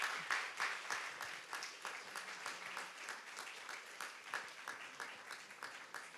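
An audience at a French eloquence contest final applauds the winner, a steady, moderately distant wash of many hands clapping, with rhythmic bursts swelling and fading over several seconds.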